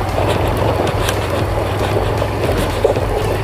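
A 2019 Honda CRF150L motorcycle crosses a river, giving a loud, steady rush of churning water and low engine rumble, buffeted by wind noise on the microphone, with no talk.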